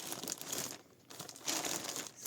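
Plastic packaging around a five-skein pack of 100-gram yarn is torn open, giving loud, close crinkling and crackling in two bursts with a short lull between, and no voice over it.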